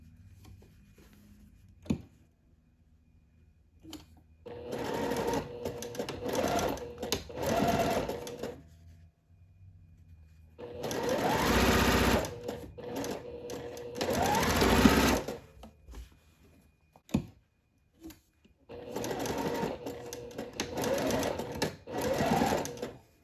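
A sewing machine stitches the channels of a rainbow seersucker dress in three long bursts of rapid, close whirring, with short pauses and soft handling clicks between runs.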